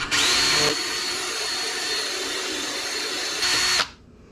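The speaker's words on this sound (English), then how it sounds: "So this bolt is now destroyed, so we're going to get my extractor kit. We're going to have to drill into it." Power drill boring into a stripped, destroyed motorcycle bolt during an extractor job, a steady whining drone lasting about four seconds with a louder burst at the start and again just before it stops, close and alone.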